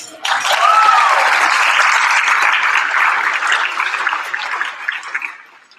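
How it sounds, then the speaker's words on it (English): An audience at a Braille Challenge ceremony applauds, loud sustained clapping from a large crowd that starts abruptly, holds steady for several seconds, then tapers off at the end. "How about a round of applause?"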